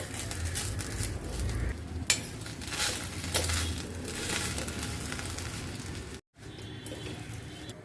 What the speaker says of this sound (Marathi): तो भाजून घ्यायचा अगदी छान भाजायचा आहे खरपूर असा खुळखुळ आवाज आपल्याला व्यवस्थित असा भाजून घ्यायचा आहे